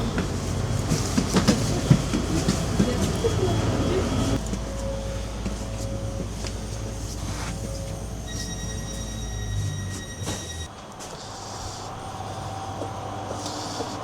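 A Christmas train in Lithuania rolls along with a steady rumble and rhythmic clacking of wheels, with squeals and brief tones over it, quieter toward the end.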